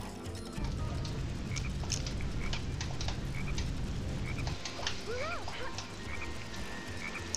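Frogs in the video game Sonic Heroes croak in a dense, continuous chorus of rapid rattling calls, loud and close, with a few chirpy squeaks over the top near the end.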